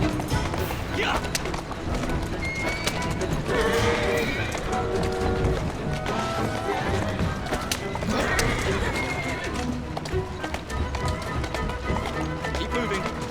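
Horse galloping and neighing in the video game Assassin's Creed Syndicate, with steady clip-clop hoofbeats running throughout and whinnies rising above, layered under game music and effects while characters speak.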